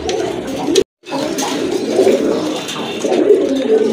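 Pigeons coo close by in soft, repeated throaty calls, with a brief dropout near the start and a few overlapping coos afterward.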